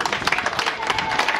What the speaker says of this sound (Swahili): rais karudisha, pigeni makofi.